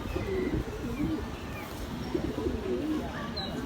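Pigeons coo in soft, repeated low murmuring calls close by, with a few faint chirps and a voice talking in the background.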